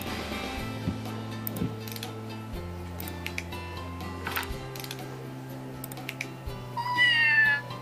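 A cat meows in Scribblenauts, a rising, wavering cry near the end over steady game music with a few soft clicks.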